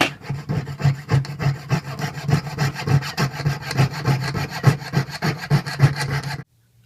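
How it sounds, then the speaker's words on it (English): A fine piercing saw cuts through a silver disc on a bench peg with quick, steady back-and-forth strokes, a rhythmic rasping close to the listener that stops abruptly. "I saw it out just with a piercing saw on a little bench peg like that."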